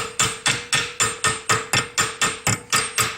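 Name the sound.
hammer bending a washer held in a vise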